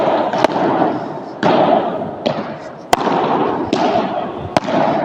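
Padel balls struck hard with a Nox AT10 Genius racket, heard as sharp, close pops every second or so over a steady background roar.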